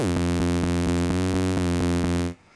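A bright, buzzy synthesizer lead using a Pulse Saw PWM oscillator in Massive holds a steady, harmonically rich tone with a rhythmic pulsing texture, then cuts off abruptly near the end.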